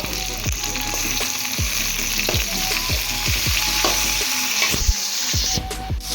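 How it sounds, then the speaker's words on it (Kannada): Onion and tomato frying in a pan for village-style chicken masala, a loud steady sizzle broken by repeated scraping stirs of a spoon, close up with no talk. "ಇದನ್ನು ಫ್ರೈ ಮಾಡ್ಕೊಳ್ಳಿ"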